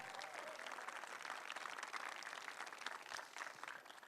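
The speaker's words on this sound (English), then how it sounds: "Give them a round of applause, please." Steady audience applause at a high school film festival, dense continuous clapping filling the whole stretch at a fairly distant, moderate level with no break.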